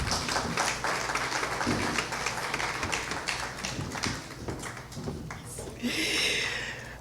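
An audience at the launch of a law fair applauds for Maître Emily Prophète Milsé, a room full of steady, moderately close clapping with some scattered taps and rustling, tapering toward the end.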